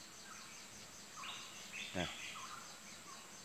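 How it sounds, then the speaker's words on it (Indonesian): Pitohui bird calling from far off in wild forest habitat, a few faint whistled notes rising above a hushed background with insects. "Dari kejauhan kita dengar suara burung pitohui."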